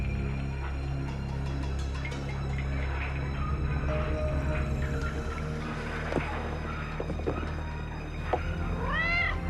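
A cat meows in a horror film scene, drawn-out wavering cries over a dense, droning musical score and ambient rumble, with a rising, twisting call near the end.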